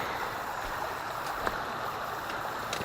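A river current flows around a hiker wading in, giving a steady broad rushing and gurgling wash, close and continuous, with a few small splashes and no talk.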